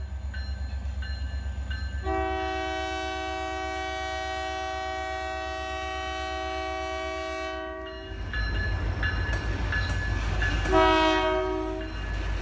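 A local freight train hauling grain hopper cars passes trackside at LeDoux, Missouri, on the former Katy Railroad. A long, loud horn blast gives way to heavy rolling rumble and wheel noise, then a shorter horn sounds again.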